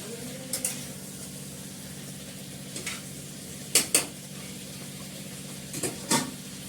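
Spices stir-fried in oil in a pan, a low steady sizzle underneath with a few sharp metallic scrapes and clinks of a utensil against the pan, fairly faint and close.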